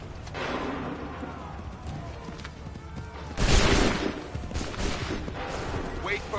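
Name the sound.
volley of gunfire on command in the video game Assassin's Creed 3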